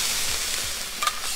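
On a Blackstone griddle, hash browns and vegetables give off a steady close sizzle, with a couple of scraping strokes as the food is moved and a brief metallic tap near the end.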